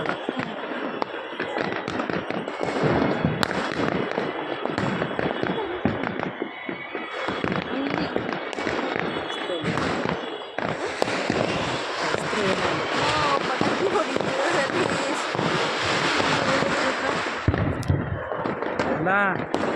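Firecrackers burst in celebration of an RCB cricket match win, a dense, continuous crackle and roar of explosions lasting throughout, loud and close with a rushing, hissing wash and faint voices mixed in.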